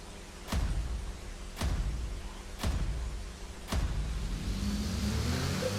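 Car engine in a Roblox driving simulator game revs in four evenly spaced bursts, each a sudden surge that settles into a sustained drone, fairly quiet and with no talking over it.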